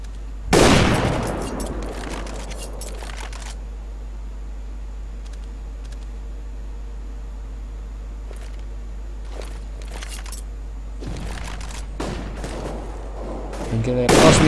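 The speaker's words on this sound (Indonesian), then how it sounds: "Dark Lord melakukan spray yang berhasil membunuh Frost Misty" Automatic weapon spray in Counter-Strike on de_mirage during a competitive match, bursts of rapid gunfire near the start and again toward the end, with quieter ambient game noise between.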